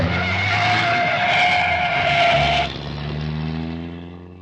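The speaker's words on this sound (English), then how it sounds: "far off in the distance, we could hear Cruella de Vil driving her sports car" A sports car races loudly with a screeching tire skid, the engine whine dropping as the car slows and rumbles on after the squeal ends.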